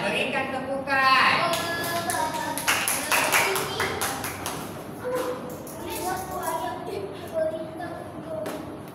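A Malaysian primary school Year 3 classroom bursts into scattered clapping from many small hands, loud at first and then tapering into shuffling and children's voices.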